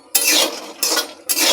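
Nuts are stirred and fried in a hot kadai, making three loud, close, gritty scraping sweeps with brief pauses between them and no voices.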